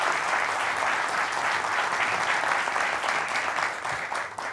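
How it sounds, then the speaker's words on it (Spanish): Sustained applause from an audience at a forum event with Mauro Guillén, steady and dense throughout before tapering slightly at the end. "Os pido un aplauso, por favor."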